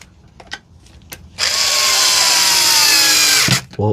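A power drill drives screws into the lid of a Milwaukee M18 8.0Ah battery, giving one loud, close, steady whine of about two seconds that stops abruptly, with light handling taps before and after.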